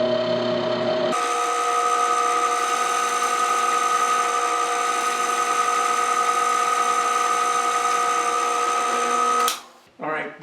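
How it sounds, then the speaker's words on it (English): A drill press boring a hole in cabinet door stock hums with a steady, even motor drone for about nine seconds, then winds down and stops. "Hold it in place, and let's drill the hole."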